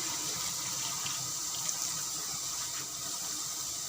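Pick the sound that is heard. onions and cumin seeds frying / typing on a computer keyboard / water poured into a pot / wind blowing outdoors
water poured into a pot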